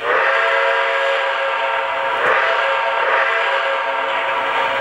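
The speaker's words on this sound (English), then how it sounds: "The prototypical sound for the whistle is a whistle." Steam whistle of a model NYC 6 Niagara steam locomotive: a loud steady multi-tone whistle held continuously for about five seconds, alone with no voices.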